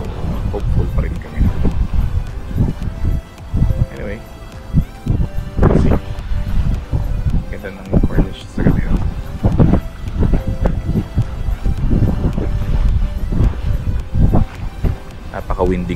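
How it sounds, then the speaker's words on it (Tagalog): Strong wind buffets the microphone on the Doha Corniche shore in Qatar during a fishing outing. A continuous roaring rumble with gusty surges runs throughout, under people talking. "Medyo windy conditions"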